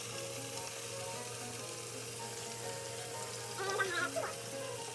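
Flour-coated swai fish fries in a fryer with a steady, close hiss of bubbling oil, swelling briefly louder near the end; no one speaks.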